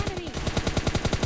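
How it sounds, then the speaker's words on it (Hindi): Rapid automatic gunfire in PUBG Lite, a fast regular string of about a dozen close, loud shots with a brief voice underneath at the start. "बाहर एकदम फनाफन गोली चल रही थी"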